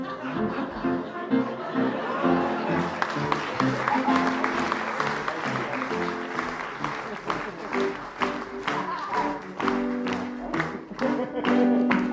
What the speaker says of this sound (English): Let's give a cheer for Bucket High